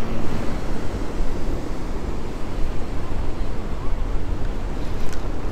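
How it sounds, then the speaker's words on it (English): Ocean surf washes steadily beside a fishing pier, a dense continuous roar of breaking waves with wind noise close to the microphone, constant and loud throughout. "You hear that, ocean?"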